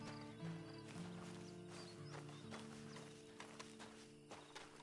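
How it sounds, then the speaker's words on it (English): Steady clip-clop of horse hooves trotting along in Red Dead Redemption 2 Online, close and clear, over a layer of background music. "Then you better get on this horse"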